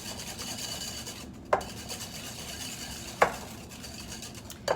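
A spoon or whisk stirs an egg and an egg yolk into rich chocolate chip cookie dough in a bowl, a steady soft scraping rub broken by a few faint clinks against the bowl, close and quiet.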